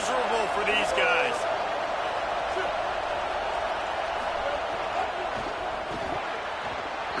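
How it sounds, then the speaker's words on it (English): Football fans in a college stadium for Texas A&M at Oklahoma, a dense sustained roar of cheering that stays loud throughout, with an announcer's voice over it. "These fans are going absolutely nuts."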